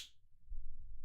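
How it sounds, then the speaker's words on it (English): A single sharp finger snap at the very start, crisp and close, followed by low muffled rumbling room noise. "You guys ever see me snap my fingers?"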